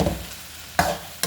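Soya chunks with masala frying in a pan for a chapati curry, giving brief bursts of sizzle and stirring scrapes separated by quieter moments, close and fairly soft with no talk.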